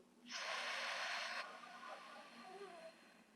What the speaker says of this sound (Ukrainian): Ми з вами робимо вдих, задуємо свічку.